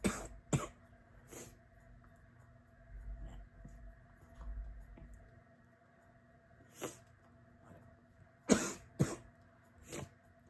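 Several sharp, separate coughs break through a quiet room, a few early on and more near the end, with a hush between them.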